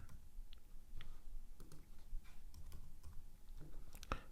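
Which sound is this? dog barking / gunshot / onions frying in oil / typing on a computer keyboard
typing on a computer keyboard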